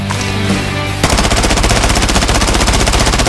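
A scoped gun fires in the video game Blood Strike, a loud, close, rapid automatic burst of evenly spaced shots that starts abruptly after a brief lead-in and runs without pause.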